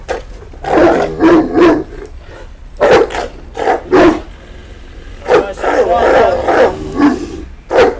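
A giant Turkish shepherd dog barks deep and loud nearby, its voice hoarse, repeated barks coming in rhythmic bursts with brief pauses between them.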